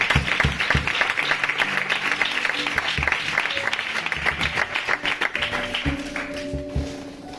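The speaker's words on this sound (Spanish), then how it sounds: "Dale un fuerte aplauso a Dios" Church congregation applause fills the room, many hands clapping in a dense roar that thins into scattered claps near the end, with faint low tones underneath.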